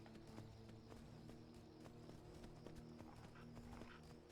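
Rapid, rhythmic clip-clop of horse hooves galloping in the video game Skyrim, steady and close over a constant game background, with a faint whinny.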